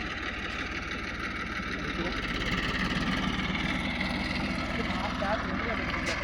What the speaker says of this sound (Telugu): అది పక్కన ట్రాక్టర్ అవుతుంది